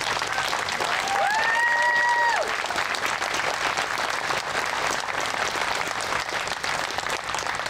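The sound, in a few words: applause for a speaker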